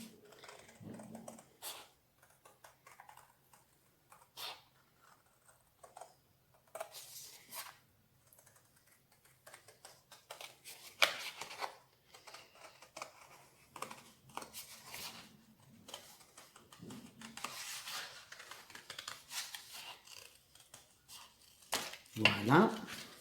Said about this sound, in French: Je vais découper mes ronds.